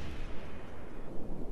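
Naval artillery fire and battle noise from World of Warships, with a La Galissonniere cruiser in play, sounding as a steady, dense low rumble of distant gunfire and blasts that swells and fades without one clear single shot.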